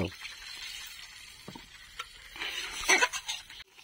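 Water is poured in a soft, steady splash into a cooking pan of chuna fish, swelling louder near the end before cutting off.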